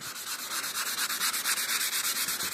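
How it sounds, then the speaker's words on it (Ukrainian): A painted surface is wet-sanded by hand with 400-grit sandpaper on a foam pad, giving a close, even series of quick rasping back-and-forth strokes in a steady rhythm. "Зашліфовуємо це все 400 кою не виходячи на краєві зони"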